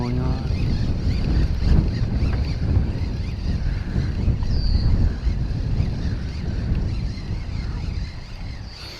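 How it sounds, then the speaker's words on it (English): Steady wind roars and buffets across the whole stretch, a broad low rumble with gusty swells, like wind hitting a microphone outdoors. "It's getting windy again."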